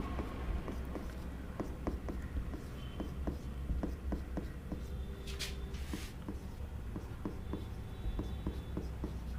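Chalk or marker tapping and scratching on a board in a lecture room, a steady run of short strokes with faint room noise and no talk.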